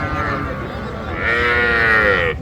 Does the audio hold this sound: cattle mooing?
yes